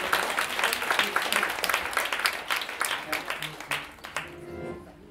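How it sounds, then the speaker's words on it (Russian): A concert audience applauds at a holiday classical performance with dense, lively clapping that gradually thins and fades toward the end, leaving a few scattered claps and faint talk. "Отдельные аплодисменты пропускающим пешеходам."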